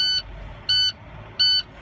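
Warning buzzer inside a truck cab sounds three short, loud electronic beeps, evenly spaced, over a low engine idle.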